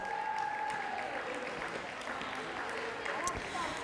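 Applause from a sports banquet audience honouring U14 netball champions, a moderate, sustained spatter of clapping with voices mixed in.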